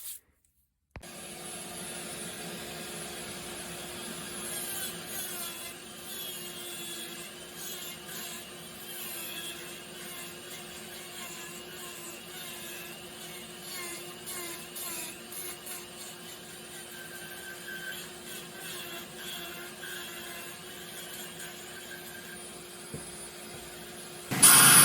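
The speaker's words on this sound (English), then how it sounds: "I'm going to start the dust collector up, see if we can even all this out" A dust collector hums steadily in a woodcarving workshop, a faint continuous drone with a faint tonal whine and some scratchy rubbing on top, ending in a brief louder burst.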